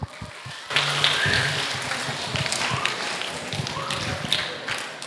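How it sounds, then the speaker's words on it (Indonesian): Audience hand clapping at an Indonesian road safety outreach event breaks out suddenly after a brief pause and continues as a moderate, slightly uneven patter of many hands in a room. "Tepuk tangan."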